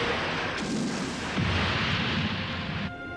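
Sci-fi laser cannons fire at Godzilla in the 1995 film Godzilla vs. Destroyah: a loud, roaring, sustained energy blast surges in, swells, then cuts off to a fading tail, with no speech.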